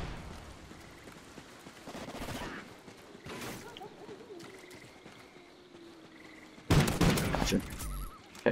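Rifle gunfire in Call of Duty: Ghosts Gun Game, scattered bursts of shots rising from a low game background, with a louder cluster of rapid fire near the end and a brief spoken word.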